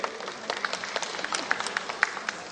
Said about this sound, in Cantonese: 多謝大家嘅非常之慷慨嘅掌聲